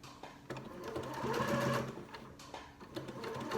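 A sewing machine stitches a seam on a square handbag, its motor whirring in short rising and falling bursts, close and moderately quiet.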